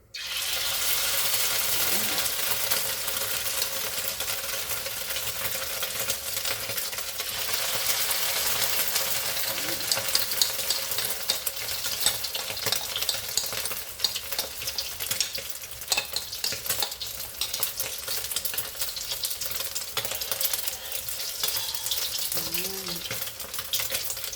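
Dilis anchovies coated in egg and corn starch sizzle and crackle steadily in hot oil, a bright, hissing fry that runs continuously and close up, with occasional faint clinks and stirring.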